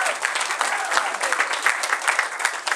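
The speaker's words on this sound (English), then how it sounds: "Big round of applause for Alex, guys." A large crowd claps and applauds continuously at the opening ceremony of a furry convention, a dense, sustained burst of clapping from many hands filling the hall.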